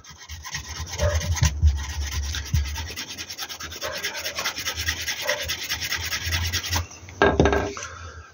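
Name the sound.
burnishing leather edges of a pouch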